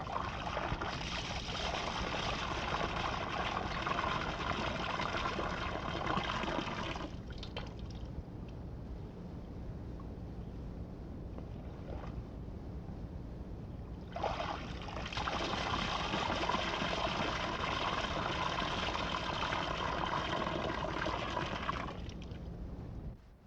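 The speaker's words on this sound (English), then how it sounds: "slowly let the water run out through the mouthpiece" Water trickling slowly out of the mouthpiece of a moose call held a few feet up, a steady close splashing pour that runs about seven seconds, pauses to a quieter drip and wash, then pours again for several seconds.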